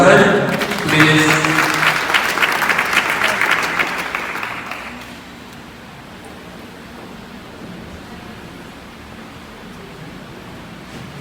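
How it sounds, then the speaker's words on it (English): A graduation ceremony audience at Fajara Skills bursts into loud, dense clapping that holds for a few seconds, then thins and dies away into quiet room noise. "Please put your hands together for her one more time"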